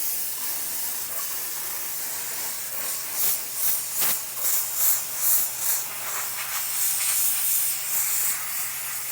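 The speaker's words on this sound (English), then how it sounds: "If you have a powerful steamer" Steam cleaner hissing against a dirty car seatbelt: a steady high hiss with a run of short pulsing bursts midway, close and fairly loud, no talk.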